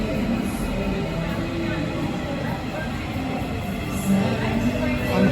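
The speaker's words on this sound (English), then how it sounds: "here's my attempt to ride the Marmaray commuter rail and to cross Bosporus to go from Europe to Asia." A Marmaray commuter rail train runs through the tunnel beneath the Bosporus in Istanbul, giving a continuous loud rumble and rattle heard from on board, with a slight swell near the end.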